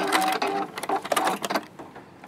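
A Juki F600 computerized sewing machine stitches an appliqué heart in a quick burst of rapid needle strokes, loud and close, then slowing and fading out near the end.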